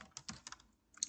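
Someone types on a computer keyboard during a coding lesson, producing a close, quiet series of irregular key clicks with a brief pause before a final few taps. No one speaks.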